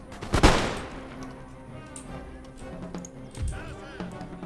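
Musket volley gunfire from massed infantry in Empire Total War, a sharp loud crackling burst near the start followed by scattered distant shots and battle noise, with someone talking over it.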